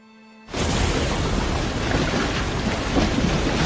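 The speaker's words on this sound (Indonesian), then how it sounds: "Bahkan badai pun datang hingga membuat rakitnya rusak dan Wilson terpental ke dalam lautan." A violent storm at sea in a film scene, with a sudden loud burst of roaring rain, wind and thunder that begins after a quiet moment and stays dense and heavy throughout.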